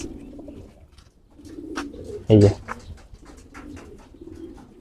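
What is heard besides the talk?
racing pigeons cooing, army line breed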